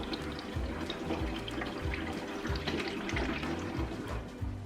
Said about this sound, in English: also fill your water in this part of your humidifier